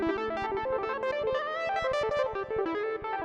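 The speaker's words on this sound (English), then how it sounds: "So this is a great, great Seaboard sound" A ROLI Seaboard GRAND synthesizer played with a bright, distorted, buzzy lead patch, a fast run of notes over a pulsing, rhythmic low tone, loud and continuous.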